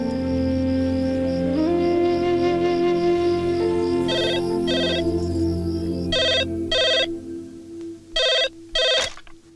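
A telephone rings in short repeated bursts of electronic trilling, loud and close, coming in pairs over a held musical background.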